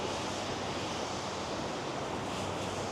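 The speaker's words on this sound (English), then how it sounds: "you can see some of the rapids of the James River" Rapids on the James River in Richmond churn in a constant, even rush heard from an overlook, with wind buffeting the microphone throughout and no voices.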